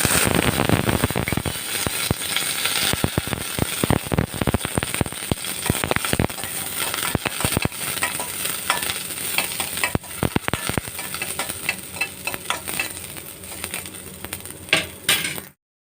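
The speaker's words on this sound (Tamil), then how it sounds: "எண்ணெய் நல்லா காஞ்சிருச்சு. கொஞ்சம் கடுகு போட்டுக்கலாம். கூடவே கொஞ்சம் மட்டும் வெந்தயம். இந்த வெங்காயம் கருவேப்பிலை போடலாம்" Mustard seeds, fenugreek, onion and curry leaves frying in hot oil for a rasam, giving a loud, steady sizzle and crackle throughout with sharp popping spatters and occasional utensil stirring clinks, with no talking.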